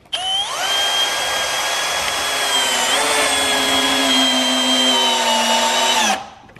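Bosch GSB 185-LI cordless drill driving a large 5/16 screw into soft wood, a loud steady motor whine lasting about six seconds, rising briefly in pitch early on, then cutting off abruptly.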